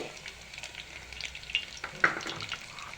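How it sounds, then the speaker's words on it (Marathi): Chopped onion sautéing in a pan for a village-style mutton curry, a low steady sizzle with a few stirring scrapes and clinks, heard alone with no talking. "आणि चांगल्या प्रकारे आपल्याला कांदा इथे परतून घ्यायचा आहे"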